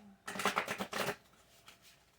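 A short burst of riffling cards, a rapid papery flutter lasting about a second, followed by a couple of softer card slaps.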